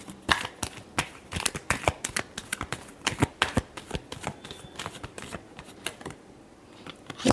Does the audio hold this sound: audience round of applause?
no